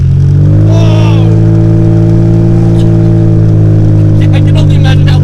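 A Honda Accord with no exhaust revs hard from inside the cabin, a loud, blaring engine drone rising in pitch and then holding, with brief excited exclamations from occupants.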